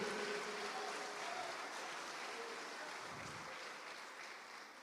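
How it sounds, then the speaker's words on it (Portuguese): Church congregation applauding during a worship service, a faint, steady wash of clapping heard from a distance that slowly fades out. "Glória a Deus, aplauda mais."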